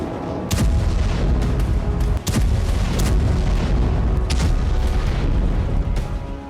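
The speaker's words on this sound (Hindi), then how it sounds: "लेबनान से लगती सीरिया बॉर्डर पर जबरदस्त धमाके किए जा रहे हैं" Heavy continuous rumbling with repeated sharp blasts and booms from bombing on the Syria–Lebanon border, several loud distinct explosions standing out against the dense roar.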